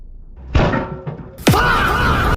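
A coconut bursts inside a microwave oven with a loud, sudden bang, followed by sustained rattling and humming from the running appliance. A softer thump is heard earlier.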